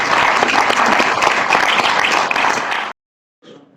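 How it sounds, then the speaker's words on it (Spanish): Audience applause fills a round-table discussion room in Zamora, a dense, steady clapping that stops abruptly, followed by a brief faint patch of sound after a pause. "Un aplauso."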